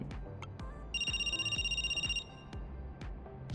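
A smartphone in Cash Cleaner Simulator rings once with a bright, pulsing electronic tone lasting about a second, set over steady game background noise with repeated low thumps.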